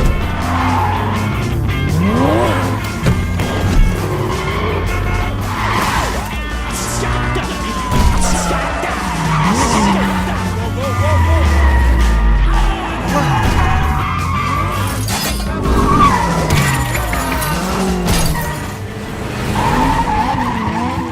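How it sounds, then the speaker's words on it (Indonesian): A film car chase with a getaway car pursued by police: loud revving engines, repeated screeching tire skids and squeals, and passing vehicles, with a faint siren among the continuous action. "Dan sialnya aksi mereka diketahui oleh pihak kepolisian hingga akhirnya kejar-kejaran pun terjadi."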